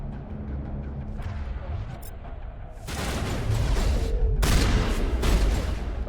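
Gunfire from an enemy shotgun in the Mass Effect video game, loud bursts of blasts and booms that swell and repeat over several seconds amid rumbling game noise.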